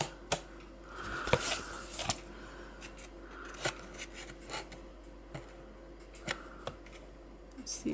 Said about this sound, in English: So what we then do is just snip